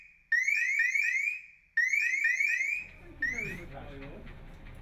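Safeforce gas detection unit alarm sounding in loud repeated bursts of rapid warbling electronic beeps, pausing between cycles, with a lower background rumble and voice coming in toward the end.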